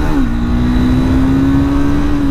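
A Triumph Speed 400 motorcycle engine pulls hard under acceleration, a loud steady drone that rises slightly in pitch and holds, close and continuous with no talking.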